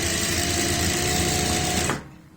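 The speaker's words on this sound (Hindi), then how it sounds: "ये अपने आप साइड में ही सिलाई लगती चली जाती है" A sewing machine stitches piping onto a kurti, a steady close mechanical whir with rapid needle rhythm that runs continuously and then stops abruptly, no talk over it.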